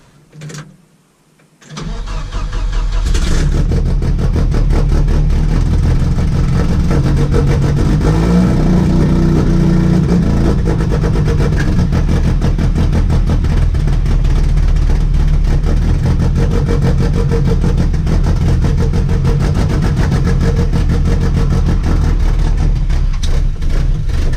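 A built naturally aspirated redblock engine in a Volvo 740 cranks, fires and settles into a loud, steady, close roar that holds for a long stretch, with no talk over it.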